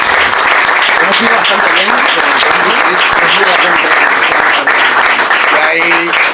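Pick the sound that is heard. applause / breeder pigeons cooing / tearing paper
applause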